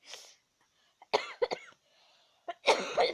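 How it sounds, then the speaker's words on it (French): Several sharp coughs come in short bursts, close and fairly loud, separated by brief quiet pauses and soft breathing. "ça faisait longtemps que j'avais pas toussé"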